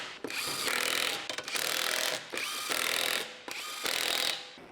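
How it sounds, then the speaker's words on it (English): Lug nuts on a Honda Civic wheel being run down with a 17mm socket on a power tool: four loud, sustained whirring bursts of roughly a second each, separated by short pauses, close up with no talk. "Use the 17mm socket to tighten the wheel lug nuts."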